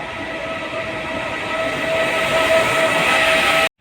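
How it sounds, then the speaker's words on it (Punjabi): A train rolls into a station in Italy with a steady rumble and rising clatter, a sustained tonal whine above it, growing slightly louder before cutting off abruptly. "ਪੂਰੇ 8:24 ਤੇ ਟ੍ਰੇਨ ਸਾਡੀ ਵੀ ਆ ਗਈ"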